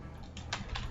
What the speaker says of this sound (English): then we'll type again